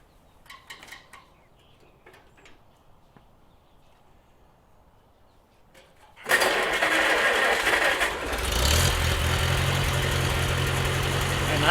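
A 1948 Farmall Cub tractor engine cranks and catches abruptly after a quiet stretch of faint background sounds, then settles into a loud, steady idle with a slightly uneven, missing beat.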